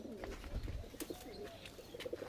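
Kashmiri pigeons coo softly in a loft, low murmuring calls mixed with faint rustles and small knocks, quiet and close.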